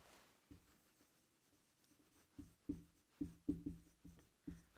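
Chalk or marker strokes on a classroom board, a sparse run of short scratchy taps that bunch into quick bursts toward the end, fairly close and quiet, with no talking.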